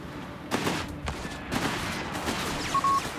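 Gunfire from British forces battling in the strategy game Company of Heroes 3: scattered rifle and machine-gun bursts crackle at mid distance over a dense battlefield rumble, with a few sharper shots standing out.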